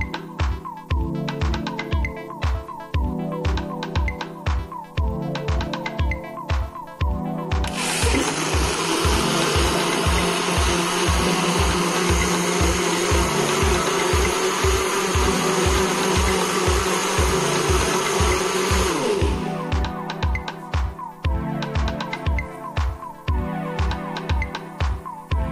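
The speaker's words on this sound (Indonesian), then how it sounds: "Kemudian aku blender sampai rata dan halus." A kitchen blender whirs loudly and steadily for about eleven seconds as it blends liquid milk and white bread for a pudding, set against a rhythmic musical beat that continues before and after.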